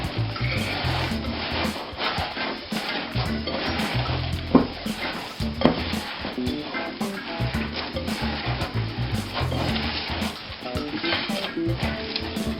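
Hands squelching through raw meatloaf mixture with milk and egg, a wet, rhythmic slapping and squishing that carries on steadily at close range with no talking.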